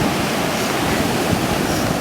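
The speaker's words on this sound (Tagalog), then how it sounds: "Lakas ng alon, hindi kami makaligo." Strong sea waves crash and roar on a shore in a continuous loud wash of surf noise, with wind buffeting the microphone and no voices.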